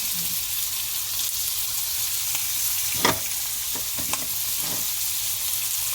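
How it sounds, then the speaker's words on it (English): Onions sizzle steadily in a pan for Jamaican jerk T-bone steak, a constant frying hiss broken by a few sharp clinks and scrapes of stirring. "Then we're gonna add the onions on the side."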